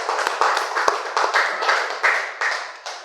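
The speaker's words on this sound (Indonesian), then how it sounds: "beri aplaus dulu buat" Classroom applause from students, a short burst of quick overlapping hand claps pulsing in several waves, moderately loud and close.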